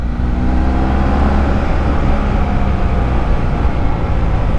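A big Porsche passing on a road with corners, heard as a loud, steady engine roar and broad road rumble filling the whole stretch, close by.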